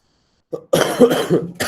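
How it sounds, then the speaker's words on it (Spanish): A person coughs up close, a short hack followed by a harsher, rasping burst and another brief cough, loud against silence. "La tos, Dios mío."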